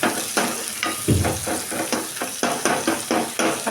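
Tomatoes sautéing in a pan for mushroom gravy, a steady close sizzle with repeated stirring scrapes and clacks in an uneven rhythm, no voices.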